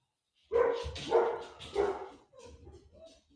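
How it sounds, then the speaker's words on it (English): Pet dog barking indoors, three sharp yips close together followed by two softer, shorter woofs, fairly near and alone without talk. "that's my dog, by the way"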